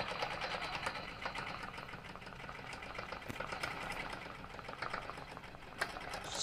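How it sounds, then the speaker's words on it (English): A sewing machine runs steadily, stitching a quilt border with a continuous fast mechanical hum and rapid needle clatter, close and even throughout. "So I'm going to start stitching."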